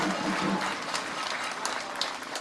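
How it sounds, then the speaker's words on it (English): An audience at an Irish Freedom Rally applauds, a soft, distant wash of clapping and crowd noise with voices mixed in, fading slightly toward the end. "Give COVID a clap!"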